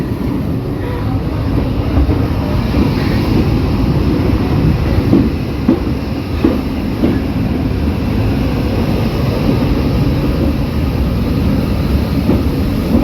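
A heritage train pulling into Horsted Keynes station on the Bluebell Railway, a loud, steady rumble of wheels and carriages rolling close by with faint clicks of the rails.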